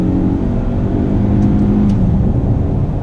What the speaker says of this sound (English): When you put the Tucson into sport mode, you can feel that it does accelerate a little quicker